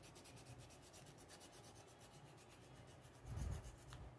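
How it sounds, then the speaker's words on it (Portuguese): A stiff pencil tip is rubbed on sandpaper to sharpen it, giving a rapid, regular rasping scratch close by, quiet overall with one slightly louder scrape near the end. "Vou afinar um pouquinho essa ponta deste lápis, porque está muito dura."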